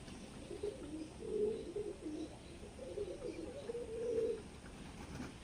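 Lambadi pigeons for sale, originally from Andhra, cooing softly in low rolling phrases, two gentle bouts close by with quiet background and no talk.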